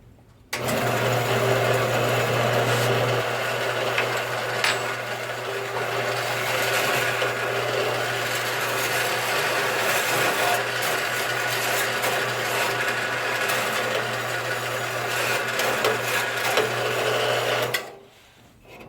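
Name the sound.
Harbor Freight metal cutting band saw running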